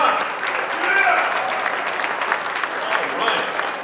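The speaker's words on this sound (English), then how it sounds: "Big round of applause for the star of the show, Bruce Brock." Dense, sustained applause from an audience at a dog auction event, greeting the star of the show, steady and loud throughout with crowd noise mixed in.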